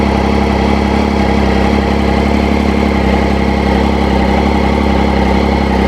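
A Triumph Speed Triple motorcycle engine with unsynchronised throttle bodies idles roughly and loud, close by, a steady low throbbing that stumbles unevenly throughout with no talk over it.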